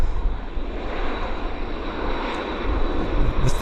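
An airliner landing at Vancouver Airport roars with its thrust reversers deployed, a loud, continuous broadband jet rumble that holds steady and builds slightly toward the end, with no voices.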